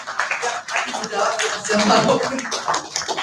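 An audience of students at a school legal-outreach session in Yogyakarta claps in a brief, scattered burst lasting about three seconds, mixed with lively crowd chatter and voices close by.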